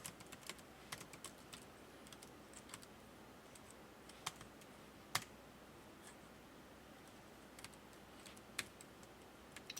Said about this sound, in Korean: 여기다가 그대로 타이핑을 칩니다.